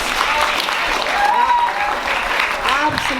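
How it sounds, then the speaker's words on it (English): A school poetry slam audience claps in a sustained round of applause, dense and close, with voices mixed in under the clapping. "Can you give yourself a round of applause?"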